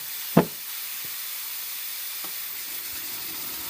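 Compressed air hisses steadily throughout while a Troy-Bilt rototiller shaft is worked on in a shop, broken by a sharp knock near the start and a couple of faint taps, with no talk.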